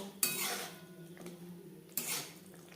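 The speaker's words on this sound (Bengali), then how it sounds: "হাই টু মিডিয়াম ফ্লেমে আরও দু তিন মিনিট নাড়াচাড়া করে নেব" Green pea and tilapia fish curry being stirred in a pan over a high-to-medium flame, with two sharp utensil scrapes against the pan standing out over a soft, steady simmering background.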